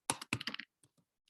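A computer keyboard is used to type a search into an academic library database: a quick, close burst of clattering keystrokes followed by a few sparse, softer taps.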